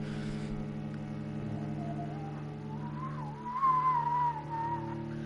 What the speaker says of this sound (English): Whistle, whistle, whistle.